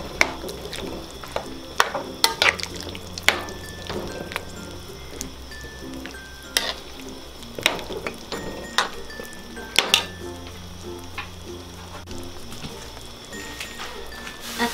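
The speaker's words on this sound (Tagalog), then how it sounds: "medyo luto na yung ating pork ay pwede na nating ilagay itong ating patatas. Tapos hahaluin nyo lang po." Pork and potatoes are stirred in a pan as they cook, with repeated close scrapes, soft squishes and clacks in an uneven rhythm over a low, steady sizzle.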